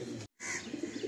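Andhra Lalshira pigeon chicks give soft cooing and chirping calls, faint and close, in a brief stretch broken by a moment of silence.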